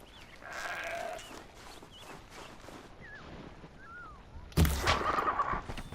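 In the video game Horizon Zero Dawn, goats bleat several times over a faint ambient background, the calls rising and falling, followed near the end by a sudden loud impact sound.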